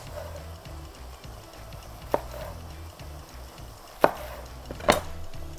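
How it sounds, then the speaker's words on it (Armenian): A knife chops peppers on a board in a kitchen, a few sharp, sparse cuts spaced seconds apart against quiet room noise. "Հայկական կանացիներու համա բղբեղն էլ կարող ենք այսպես կտրատել։"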